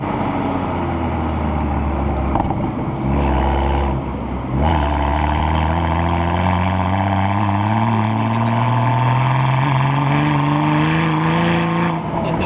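A loud, throaty modified Toyota Supra engine revs and climbs steadily in pitch as it accelerates hard, with a rough roar as the tires struggle for grip.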